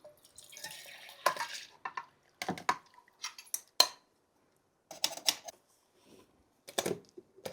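Ingredients for a summer drink dropped into a mixer jar: a series of short clinks, taps and drips in separate bursts, near and fairly quiet, with no talking.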